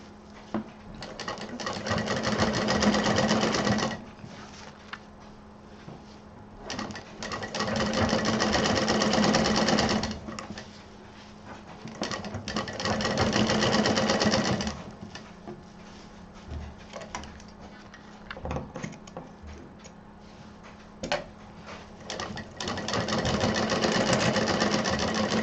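A sewing machine stitches wide lace onto fabric in long steady runs of fast needle chatter, stopping and restarting several times, close and fairly loud with quieter handling noises between runs.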